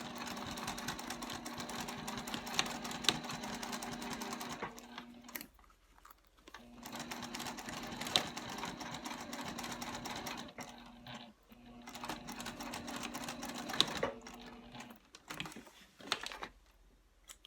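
A sewing machine stitching a leather key fob wallet in close, rapid bursts of mechanical clatter, with two short pauses where the stitching stops before starting again.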